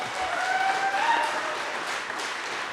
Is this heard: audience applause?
yes